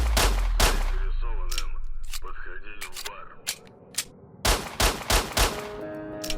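Gunfire from the video game STALKER: a string of sharp, loud shots in separate bursts, with an opening pair, scattered single reports, then a rapid cluster near the end, under a voice talking in the game.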